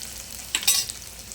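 Garlic and spices are stirred in a pan with rock salt for a garlic-pepper kuzhambu, a soft steady sizzle broken by a brief scraping stir in the middle.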